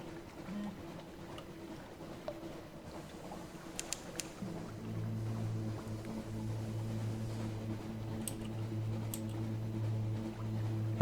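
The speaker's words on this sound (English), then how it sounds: "Full power to the engines, please." Ship engines in the video game Sunless Sea, starting at about the four-second mark and throttling up to full power as a steady low droning hum. A few faint clicks and chimes sound over it, with no voices.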